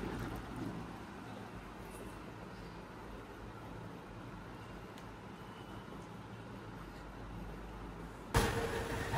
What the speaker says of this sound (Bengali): বাইরে এসে দেখি বৃষ্টি পড়তেছে